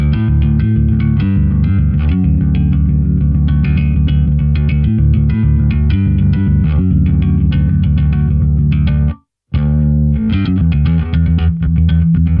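An electric bass played through a Neural DSP Nano Cortex pedal running a capture of the Take 21 preamp gives a punchy, slightly driven riff of steady notes, broken by one brief silent gap before resuming.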